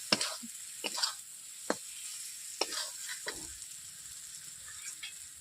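Spices fry on low heat in a pan for a prawn malai curry, giving a faint steady sizzle. A spatula stirs and scrapes now and then, and the sound stays close and quiet.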